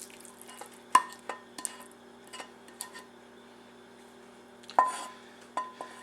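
A spoon scrapes and clinks against a 2.5 quart casserole dish while green bean casserole mixture is transferred into it, giving a few sharp metallic knocks and softer scraping taps spaced unevenly in a quiet kitchen.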